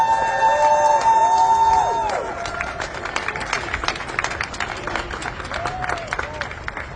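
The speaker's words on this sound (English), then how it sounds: "Let's have a big round of applause." Rally crowd for disability supports claps and cheers after an announcement, the applause fading from a loud burst into scattered clapping and murmuring, with a tone and feedback whine heard early on.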